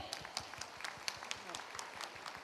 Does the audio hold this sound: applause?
yes